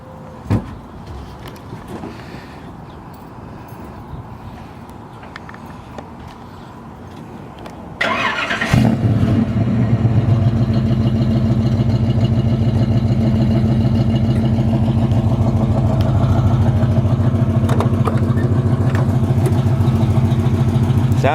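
A Chevrolet Camaro split-bumper tribute with a 350 V8 and four-speed manual cranks over, fires and settles into a loud, lumpy idle, then the revs climb and hold, preceded by quiet shuffling.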